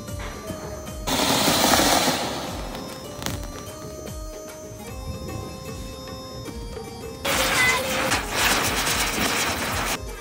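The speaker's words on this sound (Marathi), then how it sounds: "तर मग चला मित्रांनो आता थोडे फटाके देखील आपण फोडूया." Diwali firecrackers burst at an office celebration in two long, loud crackling strings of rapid pops, with a few separate bangs and quieter gaps between the bursts.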